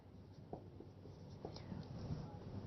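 Marker or chalk scratches across a classroom board in short strokes while the lesson spells out a grammar example. The strokes are faint, separated by brief pauses, with low room noise and a soft voice murmuring nearby.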